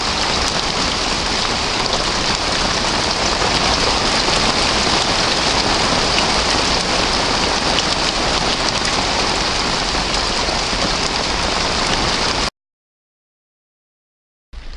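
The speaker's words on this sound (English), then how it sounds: "Bouncing off the shed. Bouncing off the floor." Heavy rain pours steadily onto a shed roof and the ground at an allotment, a dense, loud hiss with pattering drops for about twelve seconds before cutting to silence, then briefly resuming.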